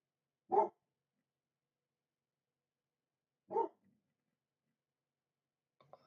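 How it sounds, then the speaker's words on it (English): Two separate dog barks, each a short single woof spaced a few seconds apart, moderately near with silence between, followed by a faint scuffling sound at the end. "Dogs."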